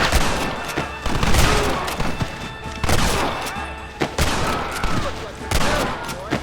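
Heavy gunfire in a Red Dead Redemption shootout, rapid overlapping shots and thumping blasts in loud bursts throughout, with shouting voices mixed in.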